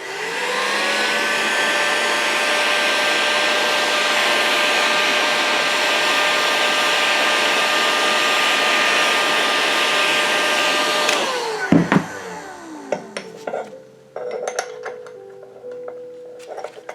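A heat gun blows a steady, loud, whining roar for about eleven seconds while it heats an OS FS-60 model engine case for bearing installation, then shuts off, followed by scattered metallic clicks and taps.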